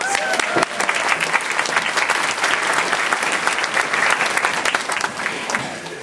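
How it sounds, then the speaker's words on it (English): An audience at a cooking school show claps enthusiastically, a dense, steady round of applause that carries on throughout and tapers slightly near the end. "Give Kelly a big round of applause."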